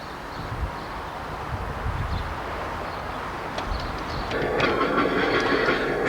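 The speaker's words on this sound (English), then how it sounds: "In the background, we are listening to the sounds of a passenger coach riding along a section of the" A passenger rail coach rolls along a railroad track, a continuous low rumble with faint clanks that grows somewhat louder and brighter toward the end.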